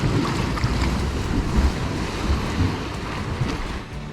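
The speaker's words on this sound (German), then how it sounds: "Da schießt der Wasserdampf förmlich raus." Rough surging Atlantic sea water and spray bursting from a rock blowhole on the coast at Sesimbra, Portugal, loud and close, with wind buffeting the microphone throughout.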